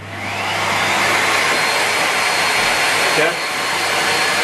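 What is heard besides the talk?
Miele Complete C3 vacuum cleaner running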